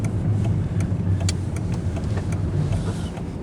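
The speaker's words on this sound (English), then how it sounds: "There, crappy American car." An American car drives past on a street at night in Iisalmi, Finland, its engine a steady mid-pitched drone with road rumble, fairly close and continuous with no talking.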